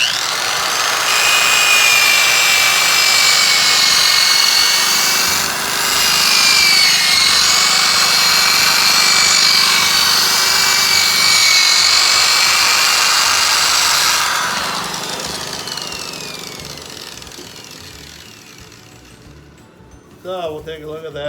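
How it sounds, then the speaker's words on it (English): Steady power-sander whine on wood with 220 grit sandpaper, the final and finest grit, running loud and continuous for about fourteen seconds before tapering off and stopping. "now we're going to move to our final grit, which is 220"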